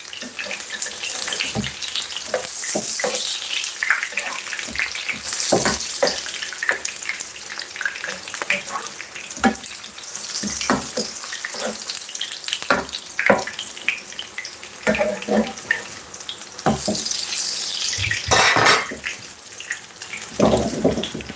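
Jamaican saltfish fritters frying in hot oil over steady heat, a dense, continuous crackling sizzle with frequent sharp pops and spits, fairly close and with no voices.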